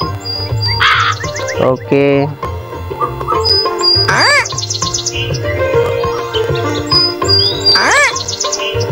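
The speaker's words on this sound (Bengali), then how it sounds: "কাক এতক্ষণ ধরে জ্বালাইছে" Crows cawing and other birds chirping outdoors, harsh calls arriving in bursts around a brief spoken word, with recurring high tweets and a busy background.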